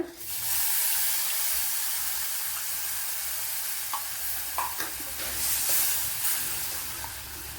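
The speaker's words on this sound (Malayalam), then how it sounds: "ഇനി പുളിവെള്ളം ഒഴിച്ചു കൊടുക്കുക" Tamarind water poured into a pan of onion sambar, giving a loud, steady sizzle and hiss with stirring that holds throughout without pause.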